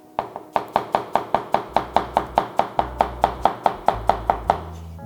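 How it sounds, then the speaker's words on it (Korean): Apples sliced by hand with a knife on a board for a crumble in a school cooking class, a steady run of about twenty crisp, evenly spaced chops, close and clear with no talking. "그래서 좀 번거로우시더라도 수작업으로 편썰기를 해주시는 게 좋습니다."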